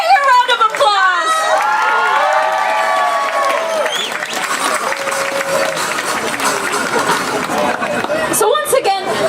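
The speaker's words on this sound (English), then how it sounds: "Caporales, a bigger round of applause." Audience at a December Nights festival at the House of Peru cheering and shouting after a Caporales dance performance, a loud sustained crowd roar with clapping underneath that fades slightly before a brief swell at the end.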